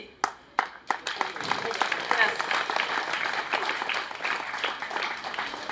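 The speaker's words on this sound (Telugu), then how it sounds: "మనమెంత స్ట్రాంగ్గా చప్పట్లు కొట్టాలి" An audience at a gathering bursts into sustained applause, a dense, close wash of many hands clapping that starts with a few sharp claps and swells to a steady roar lasting several seconds.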